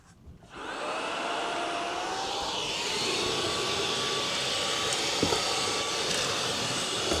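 A Trucozie cordless 60Kpa portable vacuum cleaner with its narrow crevice attachment runs steadily on stairs, a loud continuous whine and airflow rush that starts after a brief quiet moment and holds near and constant throughout.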